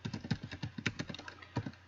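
Rapid, uneven clicking of computer keyboard keys during word processing, close and fairly quiet, in a steady run of keystrokes with no talking.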